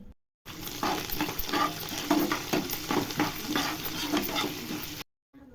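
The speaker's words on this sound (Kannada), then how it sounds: "ಕಡಲೆ ಬೀಜ ಹಾಕೊಂಡು ಚೆನ್ನಾಗಿ ಫ್ರೈ ಮಾಡಿದ್ರೆ ರೆಡಿ ಆಯಿತು" Peanuts, coriander and curry leaves sizzle and fry in hot oil for a masala, with steady crackling and stirring strokes throughout, close and moderately loud, with no talking.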